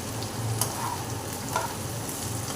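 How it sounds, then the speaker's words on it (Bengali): Capsicum is tossed in with carrot and beans frying for vegetarian fried rice. The pan gives a steady close sizzle with a couple of quick stirring clinks. "এরপর দিলাম ক্যাপসিকামটা"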